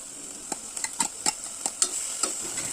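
Minced mutton (100 g) and onions sautéed in a pan for Ramadan nonbu kanji: a steady close sizzle broken by about eight sharp spatula scrapes and stirring strokes over a few seconds, with no voices.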